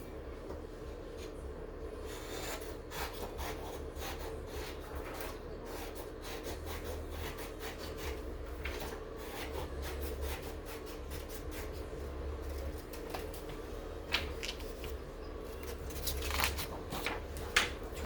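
Scissors cut through a sublimated silky sock blank in a quiet room, giving a long run of soft, repeated snips and rustling close by, fairly faint and steady, with no talking.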